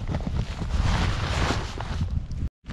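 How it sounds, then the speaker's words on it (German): Wind gusts across a frozen, snowy outdoor spot during sleet, buffeting the microphone with a loud, rough rumble for a couple of seconds before cutting to brief silence. "Wind ist da."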